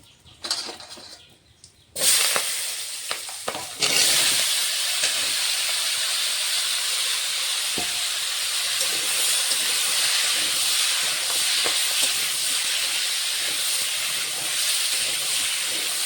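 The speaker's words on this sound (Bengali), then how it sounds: "আলু মূলো কপি সব আমি একসঙ্গে দিয়ে দেবো, একসঙ্গে দিয়ে ভেজে নেবো ভালো করে" Potato, radish and cauliflower pieces hit hot oil seasoned with cumin, and a loud sizzle bursts out and then holds as a steady close roar, with a few stirring knocks.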